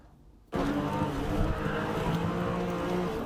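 BMW M5 with a V8 engine driven hard on city streets in Russia, a loud sustained engine roar that bursts in suddenly after a quiet half-second and holds steady with harmonic drone, close and dominant.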